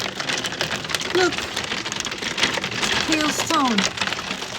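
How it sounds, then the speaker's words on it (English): Hailstones and rain falling together during a hailstorm in London, a dense steady patter and rattle of impacts filling the scene, with excited voices speaking over it. "It's raining with hailstone."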